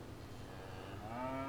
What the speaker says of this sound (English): The cows.